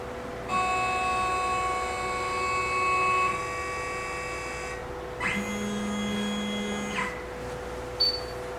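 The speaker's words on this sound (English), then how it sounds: "It'll move the head towards the left and to the right, and then it'll move the sewing arms as well" HappyJapan HCS2 Voyager embroidery machine moving its head left and right and shifting its sewing arms, giving steady whirring motor tones and electronic whines that stop and restart, with a short beep near the end and no talking.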